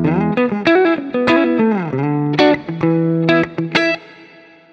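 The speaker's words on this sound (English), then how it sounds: "So a really nice expansive reverb that's not really getting in the way when we're playing, but kind of rings out after we're done." Guitar played with a clean tone through an Axe-Fx II with expansive reverb, a series of plucked notes and chords that ring out and trail off into a lingering wash.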